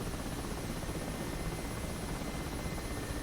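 The steady, dense rotor and engine roar of an Mi-8 Hip helicopter fills the space without a break in the DCS World flight simulator, loud and continuous with no voices.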